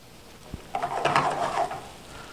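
Chopped celery is tossed in a hot pan, giving a short burst of rustling, clattering stir and soft sizzle that swells for about a second and then fades into a quiet background.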